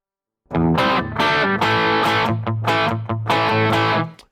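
Electric guitar run through the Waves CLA Guitar plugin, heard alone as dense, distorted strummed chords with a steady low bass note beneath, played in several sustained bursts over about four seconds.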